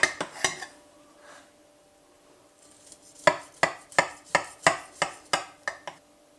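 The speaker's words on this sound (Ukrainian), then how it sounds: "І можна нарізати манник на шматочки." A knife cuts through a soft homemade semolina apple cake (mannik), making a burst of sharp clicks at the start, a quiet pause, then about nine evenly spaced, crisp taps against the plate or board, close and clear with no voices.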